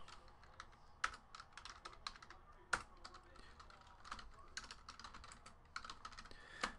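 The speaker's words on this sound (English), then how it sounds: "So let's type in the hits." Rapid typing on a computer keyboard, quiet close clicks in irregular bursts with a few sharper key strikes, no talk over it.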